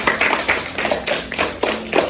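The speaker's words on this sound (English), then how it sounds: "Give him a round of applause." A short burst of clapping for a sixth-grade student's cooking demo in a classroom, several hands clapping together briefly and fairly close.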